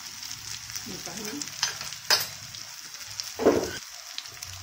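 Black masala and coriander powder frying for masoor dal, a soft sizzle with stirring clatter and a couple of sharper scrapes of a spoon against the pan, close and moderately loud with no talking.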